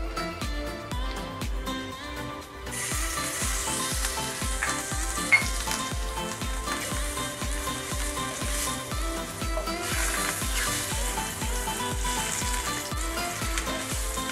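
Fish marinated in turmeric, salt and chili powder sizzles in hot oil in a kitchen pan, a close, loud, continuous crackling fry that swells as the fish goes in and holds steady throughout.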